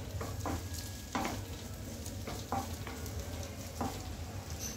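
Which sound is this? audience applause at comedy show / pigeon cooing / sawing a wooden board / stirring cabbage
stirring cabbage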